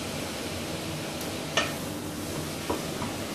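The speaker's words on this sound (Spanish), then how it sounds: "Los escurrimos y los echamos directamente aquí a la sartén de las verduras." Drained noodles hit a frying pan of vegetables and sizzle in a steady, dense hiss, with a couple of brief scraping stirs breaking through the constant frying.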